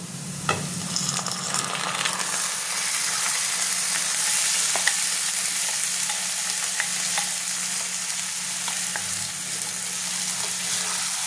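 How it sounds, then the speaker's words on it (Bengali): Marinated mutton frying in a pan of fried onions, a loud steady sizzle with scattered clicks and scrapes of stirring throughout, no talking. "এখানে ম্যারিনেট মাংসটা আমি এবার ঢেলে দেবো"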